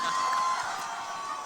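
An audience at the Half Girlfriend music concert claps and cheers as a steady, hissy wash of crowd noise, strongest at first and then easing slightly.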